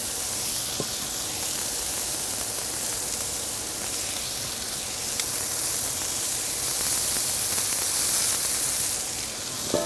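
Meatballs sizzle continuously on a hot grill, a steady bright hiss with occasional faint pops.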